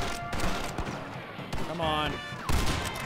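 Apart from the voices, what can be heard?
bolt-action rifle gunfire in video game Red Dead Redemption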